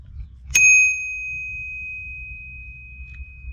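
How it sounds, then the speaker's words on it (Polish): A single bright ding from a Knog bicycle bell on a Canyon Grizl 6 1BY bike, loud and close, with a clear ringing tone that lingers and fades over a couple of seconds against quiet background noise. "dzwonek od Noga"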